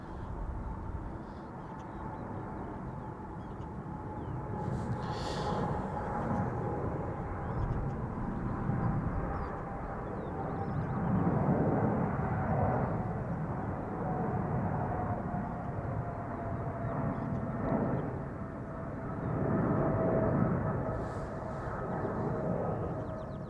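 A departing airliner at Amsterdam Schiphol Airport gives off a steady, distant rumbling roar with a faint high whine, swelling gently in loudness over time, with no talk.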